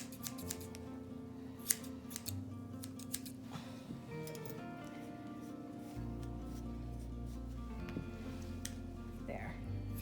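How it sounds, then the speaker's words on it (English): Large scissors snip through dog fur during grooming to clear snowballed hair, giving a series of short, close, crisp cuts under a steady low hum. "Okay, I'm gonna use the bigger scissors one more time."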